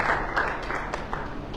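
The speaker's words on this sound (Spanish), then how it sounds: "¿Cuántos dan un aplauso al Señor?" A church congregation claps together at a Sunday service, producing a dense patter of applause that gradually thins out over a couple of seconds.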